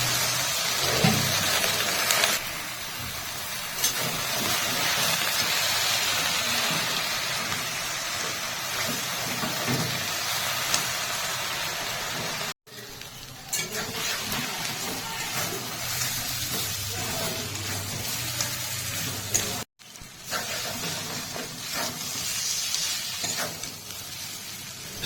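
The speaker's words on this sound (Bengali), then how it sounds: "শাক দিয়ে বেশ কিছুক্ষণ নেড়ে চেড়ে নিয়েছি" Washed shushni greens stir-fry in a pan with potatoes and spices, giving a loud continuous sizzle broken by brief pauses, with no voices.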